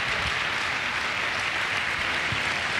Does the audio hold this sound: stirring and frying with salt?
no